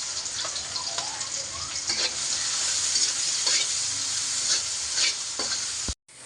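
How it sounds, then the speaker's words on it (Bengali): Sliced onions fry in hot oil in a pan, a continuous close bright sizzle with occasional scraping strokes of a stirring spoon, ending abruptly. "পেঁয়াজ ভাজা হয়ে গেছে মরিচ দেব"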